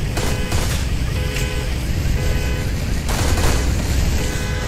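Gunfire and explosions from the mobile shooter Modern Combat 4: Zero Hour, with dense rapid shots and bursts across the whole stretch over a constant loud game soundscape.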